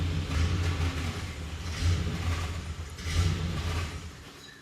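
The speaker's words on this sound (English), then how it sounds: "disconnect your idle air control valve. With the key still on, fire the truck up." Truck engine running with its idle air control valve disconnected, a steady low rumble close by that swells in uneven surges, idling rough and lumpy with no voices over it.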